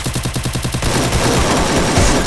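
Gunfire in the mobile battle royale game Free Fire, a rapid automatic burst of evenly spaced shots, then a dense, loud continuous barrage of overlapping fire, close and alone without talk.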